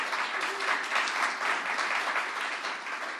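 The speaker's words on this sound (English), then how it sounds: "Let's give him a round of applause." An audience at a press event on a proposed new subway line connecting Brooklyn and Queens gives a round of applause for the MTA chair and CEO, a sustained, even wash of many hands clapping with no talking.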